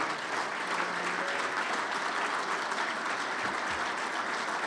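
Sustained applause from a Hall of Fame induction audience at a winter event, dense and steady throughout, honouring Hall of Famers asked to stand.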